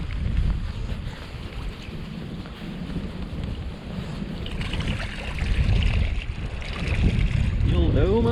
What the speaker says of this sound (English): It's become massively windy.